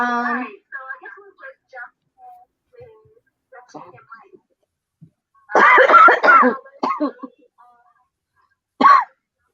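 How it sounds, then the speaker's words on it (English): Scattered harsh coughs break out between quiet gaps, with one strong cluster in the middle and a final sharp cough near the end. "I was having a coughing fit for a second"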